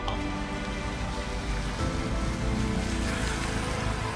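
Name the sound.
heavy rain falling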